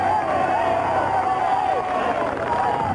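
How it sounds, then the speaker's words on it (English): Spectators cheer at a 1987 Tour de France stage finish as Christophe Leven takes his first stage win, a steady roar of crowd noise and babble that holds loud throughout. "At the finish, there's a great cheer for Christophe Leven"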